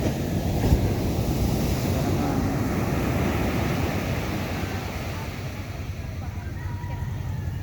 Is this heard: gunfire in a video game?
no